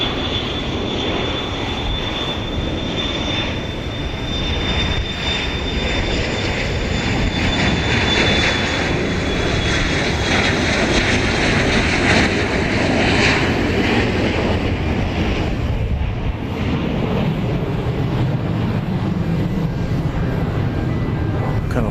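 An airplane at Dallas Love Field passes steadily and fairly loud, its engine roar broad and constant, with a rising high whine sweeping through the middle.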